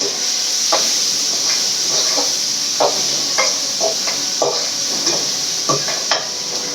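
Onion and a single green chili sautéing in a hot pan for chicken gravy, a soft steady sizzle broken by regular scraping and stirring strokes of a ladle against the pan, close up with no voices.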